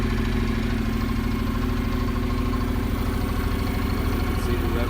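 A motorbike started on its electric starter idles out of gear, a steady, loud, close engine putter with a fast, even pulsing rhythm throughout.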